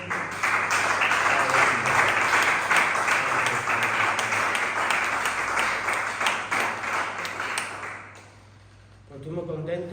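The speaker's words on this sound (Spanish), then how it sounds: "Dame un fuerte aplauso a Cristo." Church congregation claps vigorously in a sustained burst that fills most of the moment, then fades out as a voice begins speaking at the end.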